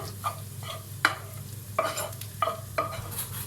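A spoon scrapes and knocks around a pot of chickpea rice pilaf in a handful of short, separate strokes, close up, over a low steady hum.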